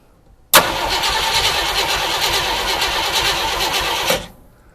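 A classic Ford wagon's engine cranks in one continuous, loud, close burst lasting about three and a half seconds, then cuts off abruptly without settling into an idle.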